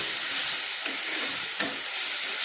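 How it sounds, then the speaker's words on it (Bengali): Spice masala sautéing in hot oil for Kolkata-style chicken biryani makes a constant bright hiss with a couple of soft stirring scrapes, close and steady, with no talking. "দিয়ে ভালো করে আমি কষিয়ে নিচ্ছি"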